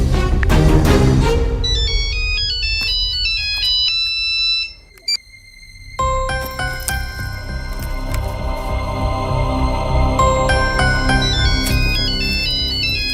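A mobile phone ringtone plays loudly as a busy electronic melody, stops briefly for a moment of near silence, then resumes and keeps repeating with no one speaking.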